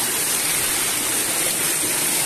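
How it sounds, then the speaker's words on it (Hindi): A small waterfall in a dense forest gives a loud, steady broadband rush of falling water, continuous and close, with no voices over it. "ओ गाइस देखो ये छोटा सा वाटरफॉल"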